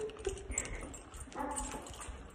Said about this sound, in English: It's a big dog.